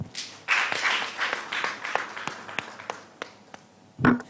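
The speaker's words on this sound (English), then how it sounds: "Another big hand clap, appreciating Claire." An audience at a media viability talk gives scattered, moderately loud hand claps after a presentation. The claps thin out toward the end, then a short final burst follows, with a faint voice mixed in.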